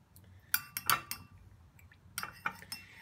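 Small clinks and taps of a utensil stirring homemade lip balm inside a small cleaned-out lip balm container, a few quick scraping clicks in short clusters, close and fairly quiet.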